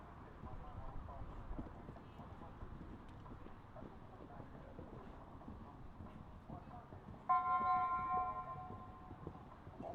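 Horse hooves clip-clop over the footing of a show jumping arena, soft and steady under wind noise, with people talking and a brief tonal chime partway through.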